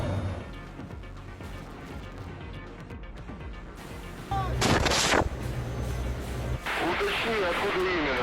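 A convoy of vehicles firing back wildly from a road laced with mines; rumbling heavy gunfire and a sharp close blast burst out over a dense background, with sustained loud firing continuing toward the end.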